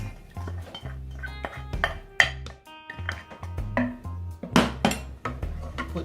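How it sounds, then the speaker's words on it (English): Cornmeal going into a pot for Jamaican cornmeal porridge, heard as a run of metallic clanks, taps and scrapes of a spoon and pot, close and irregular. "we're going to put the cornmeal in"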